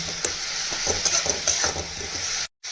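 Onion and tomato frying in a pan with a little water, stirred steadily so that soft scraping strokes and light clinks ride over a continuous close sizzle, which cuts off abruptly near the end.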